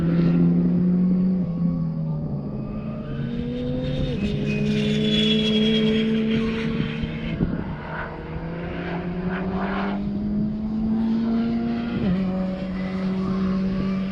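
Race cars howl around the Eagles Canyon track, a Honda S2000 chasing another car, with loud sustained engine notes rising and falling through gear changes and a second engine layered underneath.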